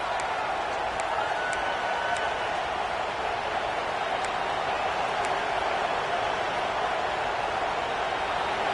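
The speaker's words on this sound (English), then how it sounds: "Here comes the noise from this big crowd in Happy Valley on third down" Big football stadium crowd in Happy Valley roaring on a third down, a dense, loud, sustained wall of cheering and noise with a few faint whistles above it.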